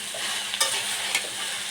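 Okra frying for a vegetarian bhaji is stirred with salt and turmeric. A steady close sizzle runs throughout, with two sharper scrapes of stirring, and no one speaks.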